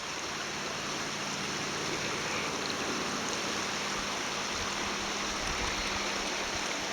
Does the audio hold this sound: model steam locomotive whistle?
no